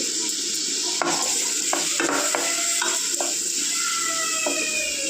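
Tomatoes cooking down with salt in a pan, a steady broadband sizzle with several sharp clinks of a spoon stirring against the pan, close and alone with no talking.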